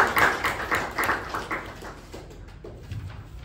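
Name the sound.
audience applause for Toastmaster Saket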